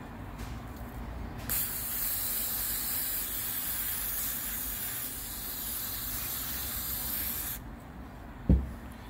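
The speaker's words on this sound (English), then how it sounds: "Okay, you can spray it with that cleaner." Aerosol cleaner hisses in one long, steady spray onto a car's throttle body for about six seconds, close and even. A short dull knock follows after the spray stops.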